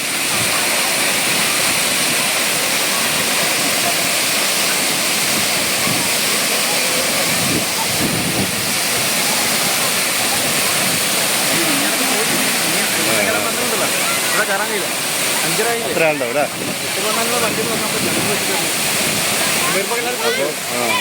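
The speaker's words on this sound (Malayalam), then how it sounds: "വളരെ മനോഹരമായ വെള്ളച്ചാട്ടം" A loud, steady roar of rushing water from a nearby waterfall fills the whole clip, with voices faintly audible beneath it.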